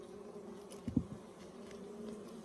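Carnica Italian hybrid honey bees buzz faintly around a beehive: a soft, continuous hum with a few brief, louder buzzes as individual bees pass close by.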